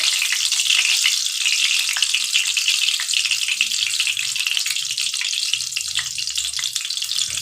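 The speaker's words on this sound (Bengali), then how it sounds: "বেরেস্তা করতে এর মধ্যে একটু তেল দিচ্ছি" Oil sizzling loudly in a pan, ready for frying onions into beresta, a dense, steady high hiss that stays close and constant throughout.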